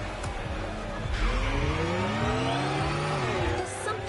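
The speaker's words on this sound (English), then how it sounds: "So let's listen to the engine on this with it being electric." Electric car driving in a PS5 racing game, with a rising and falling synthetic motor whine sweeping in pitch as it accelerates, plus tire and road noise, fairly loud and continuous.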